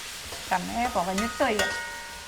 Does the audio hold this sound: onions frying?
yes